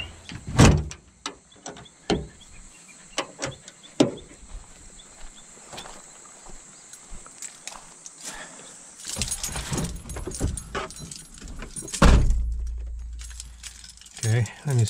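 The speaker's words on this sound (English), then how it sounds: "let me start the engine for you." Keys jangle and doors and latches clunk around a Daihatsu Hijet kei truck with a manual transmission before its engine catches near the end and settles into a low rumble, with a voice talking at times.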